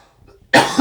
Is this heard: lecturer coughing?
yes